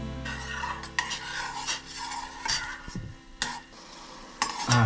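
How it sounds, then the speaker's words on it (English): Wine heats in a pot over a medium flame for a caviar cream sauce, sizzling gently beneath repeated scraping strokes of a utensil stirring against the pot, close and steady. "so we put the wine in the pot, medium fire"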